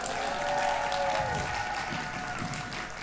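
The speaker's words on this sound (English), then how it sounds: "Big round of applause for all of our poets so far." Audience at a youth poetry slam in Scotland applauding its poets, a moderate, continuous round of clapping with some cheering and a sustained tonal sound in the background, fading slightly toward the end.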